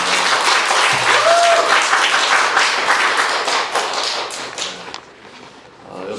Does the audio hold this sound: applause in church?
yes